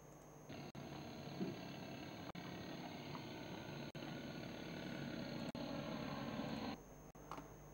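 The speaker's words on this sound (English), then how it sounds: "So they had put a very, very powerful motor in this airship. You can even hear it." A very powerful motor drives an airship, giving a loud, steady drone that starts abruptly, holds for about six seconds with a few brief dropouts, then cuts off.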